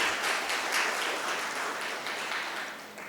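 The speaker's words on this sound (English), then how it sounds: "Please continue the applause." Continuous applause from attendees at an international shipbuilding conference, a steady, moderately loud patter of many hands that eases slightly toward the close.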